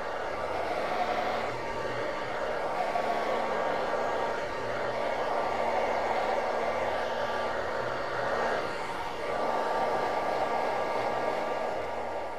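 Hair dryer blowing steadily for several seconds while drying hair during a Brazilian blowout treatment in a salon, a continuous close airy roar with slight swells in intensity and no talk.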